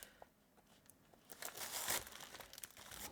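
Package of mail being opened: quiet crinkling and tearing of paper packaging, sparse at first, then building to a brief louder rustle and tear before settling, close and faint.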